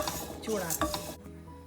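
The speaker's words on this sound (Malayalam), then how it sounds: "ചൂടായ പാത്രത്തിലിട്ട് ഒന്ന് നന്നായി ചൂടാക്കിയെടുക്കും" Crushed biscuits stirred and scraped in a hot pan, close scraping and rattling strokes in quick succession for about a second before dropping off to near quiet.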